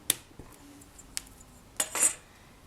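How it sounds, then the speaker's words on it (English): A blade slicing thin pieces from a polymer clay cane, giving a few sharp, isolated taps and clicks against a hard surface, close and quiet, with a slightly longer scrape near the end. "slice into it like so, just taking 1 millimeter thick slices roughly"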